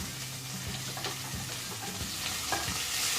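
Onions and tomato fry in a pan while a spoon stirs them, giving a soft, continuous sizzle with light scraping taps from the stirring.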